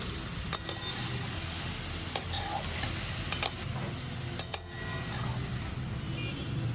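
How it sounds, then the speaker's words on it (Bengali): Fenugreek leaves and potatoes fry together in a pan, producing a continuous sizzle broken by several sharp clicks and scrapes of a spatula stirring them. "এবার শাকটা আলুর সাথে একটু ভালো করে ভেজে নেব।"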